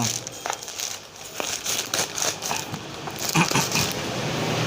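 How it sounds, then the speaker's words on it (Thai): Thin plastic packaging bag around a newly delivered solar panel being torn open and unwrapped, giving close, continuous crinkling and rustling with sharper crackles throughout. "เอ้าแกะงี้เลยเนาะ มันเป็นถุงพลาสติกครับพลาสติกบาง"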